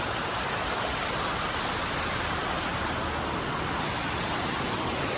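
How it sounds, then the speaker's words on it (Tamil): A small waterfall in Meghalaya gives a steady, full rushing wash of falling water, close and unbroken, with no voices. "நாங்கள் இப்போ ரூமுக்கு போயிட்டு இருந்த வழியில் இந்த ஒரு வாட்டர் ஃபால்ஸை பார்த்தோம்"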